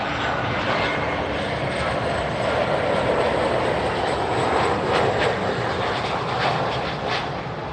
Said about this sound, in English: Sky High Cargo Express 737 coming in from Cuba in a plain Jane livery